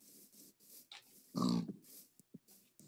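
Video-game pigs grunt and oink on a farm, several short snorts spread out with one louder, longer squeal-grunt in the middle, fairly close and alone.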